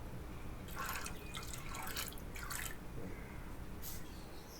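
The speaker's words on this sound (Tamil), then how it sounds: "2 டம்ளர் தண்ணி ஊற்றிக்கலாம்." Water is poured into a cooker pan of green peas, a soft continuous splashing and trickling that swells and fades over a few seconds, quiet and close.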